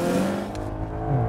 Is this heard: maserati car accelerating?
yes